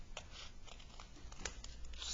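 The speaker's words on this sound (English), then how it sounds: "making sure I cut through all of the folded paper" Scissors cut through several layers of folded paper during an art lesson, giving a series of quiet, crisp snips and crinkles spaced irregularly.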